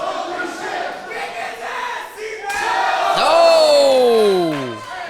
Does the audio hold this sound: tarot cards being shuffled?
no